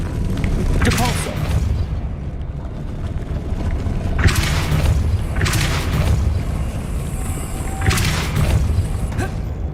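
Repeated casting of the Depulso force spell in Hogwarts Legacy produces three loud booming whooshes spaced a few seconds apart over a dense, rumbling game soundscape.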